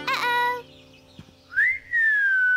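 A person whistles to call a dog: a short tonal burst, a pause, then a rising whistle that settles into a long, sustained, slightly falling note, clear and close.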